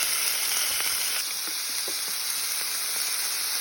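Beef sizzles loudly in a hot pan while pork bun filling is cooked, a steady dense frying hiss with scattered crackles and pops throughout, no voices.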